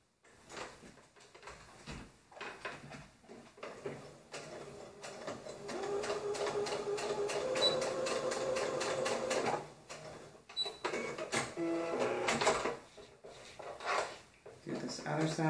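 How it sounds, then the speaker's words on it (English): A sewing machine stitches a short fabric seam close by, running in a few steady mechanical bursts separated by brief pauses and handling clatter. "I'm going to go ahead and secure that really quick with my sewing machine."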